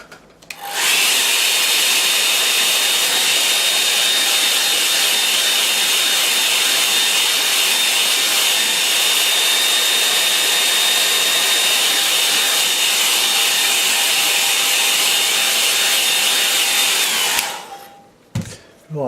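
A hair dryer blows steadily on a wet watercolour painting of morning clouds and poppies, a loud continuous whoosh with a faint whine that runs for about seventeen seconds before cutting off.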